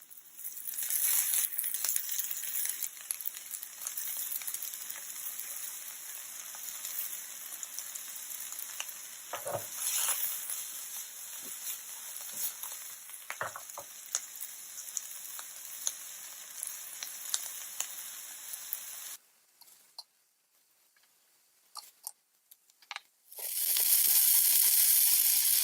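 Frozen peas and thyme sizzle in a pan, a steady, close frying hiss with light stirring clicks that drops away near the end before returning loudly.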